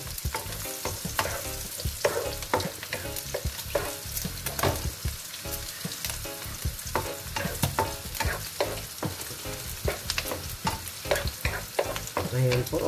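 Garlic sautés in a pan for ginisang monggo, sizzling steadily and broken up by repeated scrapes and knocks of a utensil stirring. It sounds close and continuous, with no talk.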